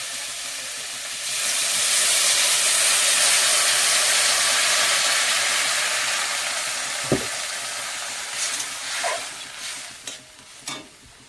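Potato curry in a pan after water is poured in, a loud broad hiss of steam and bubbling that swells then slowly fades, followed by a few scattered clinks and scrapes nearby.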